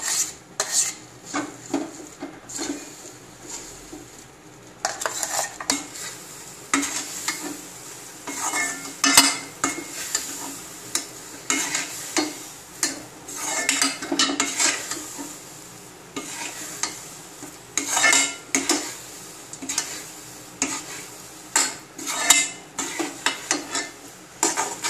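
A ground paste of chana dal and jaggery is sautéed and stirred in a kadai for pakoda: a metal spatula scrapes and clinks steadily against the pan over a soft sizzle, in close, repeated strokes with no talking.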